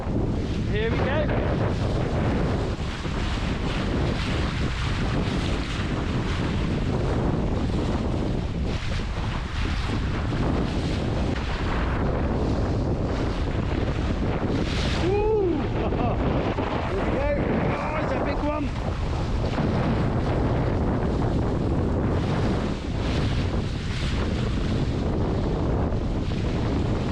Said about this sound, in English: Controlling a boat in pretty windy conditions.